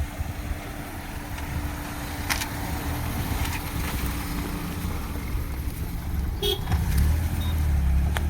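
A car carrying a wedding party drives along a road, its steady muffled engine and road rumble heard from inside, with a faint short horn toot near the end.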